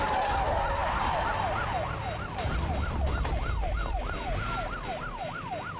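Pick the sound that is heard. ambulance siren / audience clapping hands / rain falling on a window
ambulance siren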